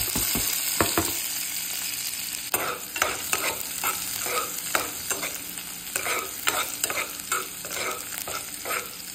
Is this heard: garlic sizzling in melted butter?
yes